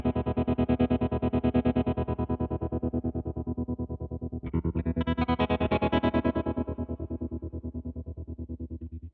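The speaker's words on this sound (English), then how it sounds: "you can get these really cool tremolo choppy sounds." Red Panda Particle V2 granular delay pedal chopping a sustained guitar tone into a rapid, steady tremolo pulse, with a brighter, denser burst of grains entering midway; loud and continuous, no talking.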